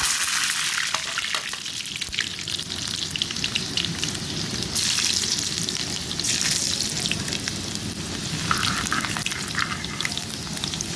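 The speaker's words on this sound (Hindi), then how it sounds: "अब मैं डाल दूँ लहसुन" Garlic sizzles and fries steadily in hot oil for a dal tadka, a dense continuous crackle with occasional stirring, close and loud with no talking.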